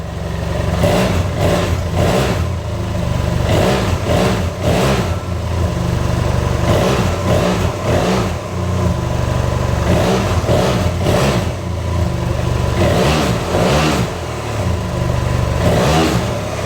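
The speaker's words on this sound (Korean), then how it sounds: "그리고 이제 시동을 한번 걸어보겠습니다." A 2014 BMW F700GS motorcycle with its stock muffler starts up and runs close by, giving a loud, steady mid-pitched engine drone with repeated swells like gentle revs. No one speaks over it.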